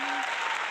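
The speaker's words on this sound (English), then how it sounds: "Yeah, round of applause." Brief burst of applause, fairly loud and continuous, with a voice briefly over the start.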